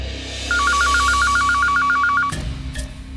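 A telephone is dialed, giving a rapid, even series of about a dozen beeping tones for nearly two seconds, loud and close, followed by a few clicks and line sounds.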